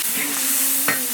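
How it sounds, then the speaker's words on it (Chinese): Small crabs stir-fried in a hot wok with dried chilies, Sichuan peppercorns, ginger, garlic and chili bean paste, giving a steady loud sizzle and a brief scrape of the spatula, with no voices. "现在开始炒螃蟹哈，干辣椒、干花椒、姜蒜、豆瓣儿。"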